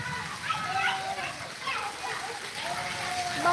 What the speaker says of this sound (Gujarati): આજે અચાનક ધોધમાર વરસાદ ને કડાકા ભડાકા જેવું થઈ ગયું